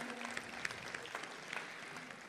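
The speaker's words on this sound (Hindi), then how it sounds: "एक बार इनके सम्मान में मैं तालियां चाहूँगी।" An audience at a Republic Day kavi sammelan and mushaira in Dubai claps steadily, a moderate spread of many hands heard from a distance, fairly even throughout with a faint tone underneath.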